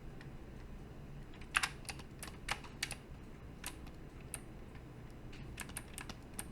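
Computer keyboard typing while sculpting in ZBrush, bursts of quick close key taps and pauses over a low steady room hum.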